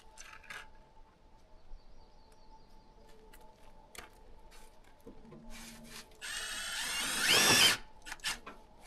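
A power drill drives screws into a chimney fitting at an off-grid home in Nova Scotia. Quiet clicks and handling noises come first, then a short, loud, high-pitched whir of the drill spinning near the end, and no one speaks.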